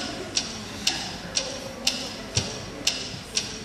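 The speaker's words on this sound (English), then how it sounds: "What is that mysterious ticking noise?" A mysterious ticking noise: seven evenly spaced sharp ticks about half a second apart, bright and clock-like, over a quiet, faintly noisy background with no talking.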